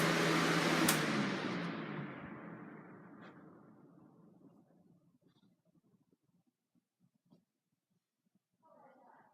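A Lakewood Model 101A 20-inch box fan with braced blades winds down after being switched off from high speed, its loud broadband whoosh fading steadily into a faint low rumble over several seconds.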